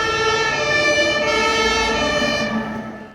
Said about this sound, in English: Miss Rabbit puts on the siren and drives them to Peppa's house